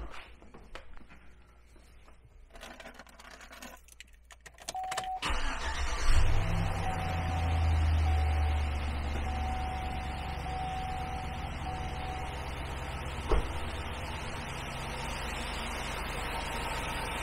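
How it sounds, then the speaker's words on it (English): A truck engine cranks and catches, then settles into a steady low idle rumble that continues to the end. "the truck's running, just got it started"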